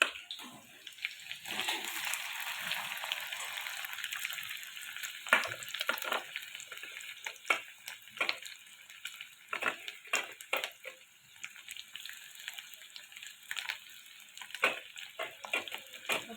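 Cooked potato is stirred into spices frying in a pan, with an ongoing hiss and sizzle broken by frequent clicks and scrapes of stirring, close and moderately quiet.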